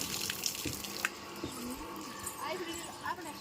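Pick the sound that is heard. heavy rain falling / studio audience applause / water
water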